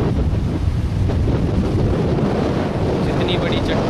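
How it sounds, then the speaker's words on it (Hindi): Sea water washes over big rocks at Fort Aguada beach in Goa, a steady close roar of surf with wind buffeting the microphone throughout. "चट्टानों से बहता हुआ पानी।"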